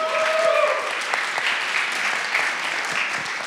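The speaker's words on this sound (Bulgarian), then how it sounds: "аплодисменти." Sustained audience applause at an awards moment during an entrepreneurship event, a dense wash of clapping at moderate level after a brief tonal sound at the start.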